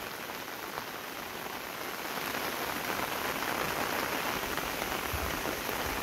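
Summer monsoon rain falls steadily on rice paddies at a hillside farm, a dense, even hiss of drops on water and leaves that grows slightly heavier partway through, with no voices.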